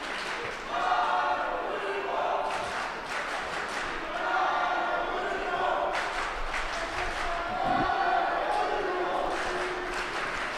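Crowd of German supporters chanting a judoka's name at a junior world judo team championship, a steady rhythmic group chant rising and falling across the hall with a commentator talking over it.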